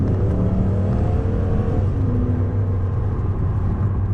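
A 2007 Ford Mustang GT Premium with a 4.6L V8 accelerating from the cabin, a steady loud low engine rumble and drone that climbs gently in pitch over a few seconds, with no talking.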